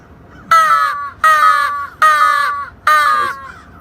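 Four loud, harsh caws from a crow on a roof, evenly spaced about a second apart, each call strong and close with no talk around it.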